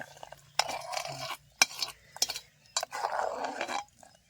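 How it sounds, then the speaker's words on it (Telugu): Sugar stirred into milk for semiya payasam: a spoon clinks and scrapes against a metal pot in a few short, irregular bursts, then one longer swirl, quiet and close with no talking. "చక్కెర వేసిన తర్వాత అయితే ఇట్లా కలుపుకుందాం. బాగా మిక్స్ అవ్వాలంతా."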